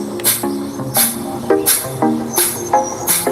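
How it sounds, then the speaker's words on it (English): Breath of fire, short rapid inhales and exhales through the nose, comes as quick sharp bursts of breathy noise repeating about every half to one second, close and fairly loud, over a soft background of sustained musical tones. "Breath number 1 is breath of fire, which is a short, rapid inhale and exhale through the nose,"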